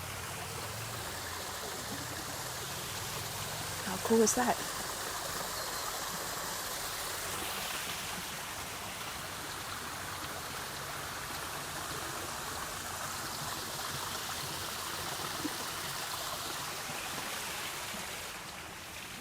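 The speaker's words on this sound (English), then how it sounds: "A little waterfall." Steady rushing water from a small waterfall under a little bridge in Toronto's High Park fills the whole stretch, with a brief voice and a clunk partway through.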